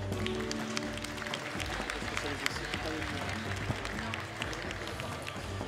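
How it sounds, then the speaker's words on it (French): Audience applause breaks out at a Gascon cattle show after a steer takes second place, steady scattered clapping from a crowd with a voice talking over it throughout. "on peut le féliciter et l'applaudir"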